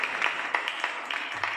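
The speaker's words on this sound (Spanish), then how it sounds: "Un aplauso." An audience applauds at a book presentation during a book fair, with a short, fairly faint patter of overlapping claps.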